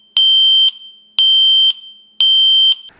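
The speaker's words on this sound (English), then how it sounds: "you can also turn on the voice and it'll say, alarm, laundry, room, water, sensor" A smart home water leak sensor alarm sounds three loud, evenly spaced electronic beeps, each about half a second long, close and alone with no talking.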